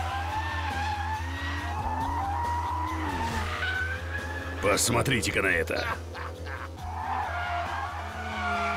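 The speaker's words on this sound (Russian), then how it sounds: "Я дрифтую со включенной противобуксовочной системой." An Aston Martin DB11 drifting on a race track in Georgia with traction control on, tires squealing and skidding in a loud burst over steady engine drone while someone talks.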